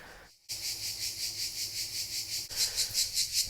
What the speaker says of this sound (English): Cicadas are playing their music, and it's 8 o'clock in the morning